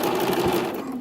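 Sewing machine stitching a baby sleeve around in a circle, a brief, close, steady motor whir with no talking.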